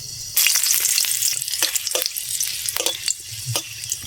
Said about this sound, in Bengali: সামান্য গোটা গরম মশলা ফোড়ন দিয়ে দিচ্ছি।